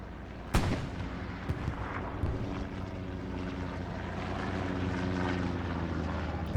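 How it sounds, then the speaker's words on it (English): In the game Hell Let Loose, artillery shelling lands on a contested point: one sharp blast, then scattered thuds over a low droning rumble of engines, with no talking. "Artillery continues to fall on point."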